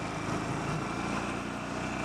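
A 2015 Harley-Davidson Iron 883 motorcycle's 883 cc engine runs at a steady, continuous drone, fairly close and unbroken, with no voices over it.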